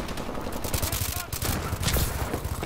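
Rapid automatic gunfire from an anti-personnel system in the shooter video game Advanced Warfare, dense bursts of repeated shots crackling continuously and loudly throughout, with busy in-game noise underneath.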